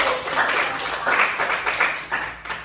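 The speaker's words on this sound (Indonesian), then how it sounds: "Baiklah, kita kasih aplaus dulu." An audience claps after a presentation: a short burst of dense, mid-loud applause that swells and fades over a few seconds, with no voices over it.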